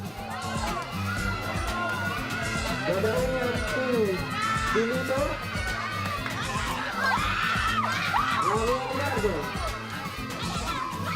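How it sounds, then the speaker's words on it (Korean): A crowd cheers at a friendly church football match in the Philippines, children shouting and screaming in rising swells under continuous voices, loud and close throughout. "환호성이 절로 나오는 경기"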